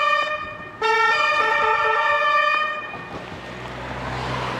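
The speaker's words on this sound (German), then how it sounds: "War da nicht Krankenwagen?" A two-tone ambulance siren wails nearby, loud and wavering, then fades as traffic noise takes over.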